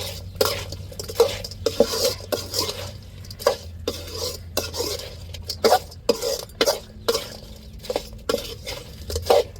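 Shrimp stirred with turmeric and salt in a pan, a spoon scraping and clinking against the metal in a steady, rapid rhythm of close, fairly loud strokes, with no talk.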